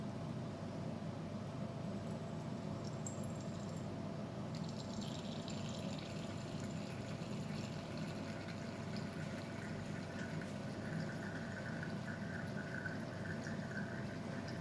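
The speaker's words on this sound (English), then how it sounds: "Then we will add distilled water to clean the purette. Then we will allow it to flush out." Distilled water flushes out of a glass burette in a lab. It makes a steady, soft rushing trickle that runs continuously, with a faint higher splash as the flow picks up.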